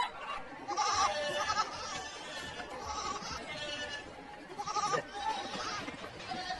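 Goats being taken to market bleat repeatedly in loud, wavering calls that rise and fall, several animals overlapping against a busy outdoor background.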